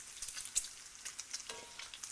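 Fatty bacon crackles and spits in a cast iron skillet, a dense, close sizzle with quick popping bursts of grease and no talking.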